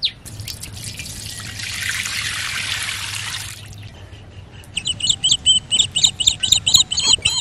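Cooking oil pours into a pan for Ukrainian village-style chicken paella, a soft hiss lasting a couple of seconds, followed by quick rhythmic bird chirps nearby outdoors.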